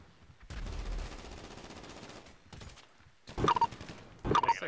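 Gunfire in a police roleplay video game set during a mass shooting response: a long rapid burst of automatic fire, a shorter burst, then two loud, sharp clusters of shots near the end.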